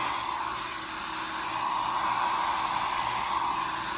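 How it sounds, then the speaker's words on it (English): A handheld blow dryer runs steadily and close, drying and stretching the edges of natural hair during a wash and set, with a continuous airy whoosh and no talking. "I'm going to just take my blow dryer, and I'm going to literally blow dry my edges, just to stretch them out"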